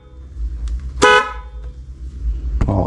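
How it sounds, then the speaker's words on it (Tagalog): A motorcycle's newly installed dual horn sounds two short, loud, close honks about a second and a half apart over a low idle hum. "yung in-install natin na dual horn"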